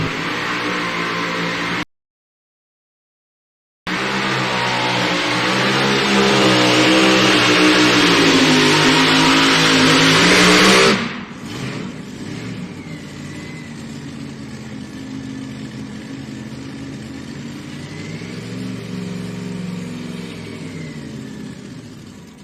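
A light modified class race car roars through its run at high revs, loud and sustained, then drops abruptly and fades to a lower distant engine drone.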